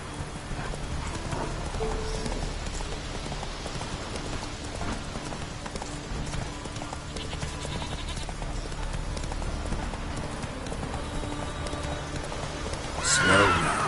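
Horse in The Witcher 3 galloping with steady repeated hoofbeats and occasional neighs, close and continuous, with speech and background game sounds mixed in.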